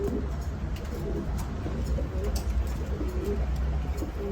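Fancy pigeons such as Red Lahori birds at a seller's loft cooing in low repeated murmurs amid a steady background hum, fairly faint and continuous.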